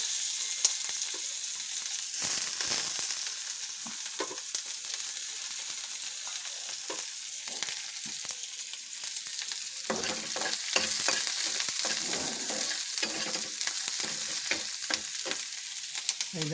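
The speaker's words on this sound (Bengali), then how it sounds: "কয়েক ফোড়ন দিয়ে দিলাম।" Whole spices tempering in hot oil in a pan before fresh Bombay duck fish goes in: a continuous bright sizzle with scattered crackles that grow busier and more spattering partway through, with no voices.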